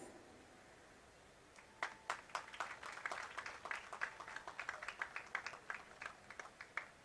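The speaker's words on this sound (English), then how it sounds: "I would like a loud round of applause for them." Audience applause at a dental walkathon event, a scattered run of individual claps starting after a quiet pause and continuing steadily at moderate distance, fairly sparse rather than a dense roar.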